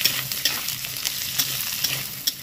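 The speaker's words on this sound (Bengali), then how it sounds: "এগুলোকে একসাথে ভেজে নেব" Chopped potato, carrot, beet and onion frying together in a pan, a loud, steady close sizzle with light scraping taps from stirring throughout, no voices.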